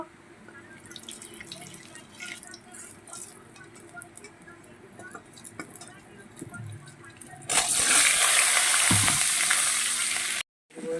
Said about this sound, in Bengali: তারপরে দিয়ে দেব আদা আর জিরেটা দিয়ে আমি ভালো করে কষাবো